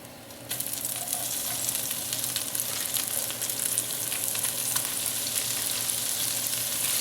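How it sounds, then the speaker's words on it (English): Garlic and leeks frying in a Dutch oven give a loud, even, continuous sizzle that starts abruptly and holds steady, with faint stirring and no voices. "in the Dutch oven, we're starting with our garlic"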